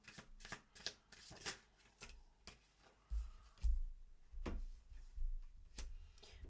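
Tarot cards are shuffled by hand close up, with quick flicking riffles and soft slaps and taps, followed by heavier thumps as the deck is handled.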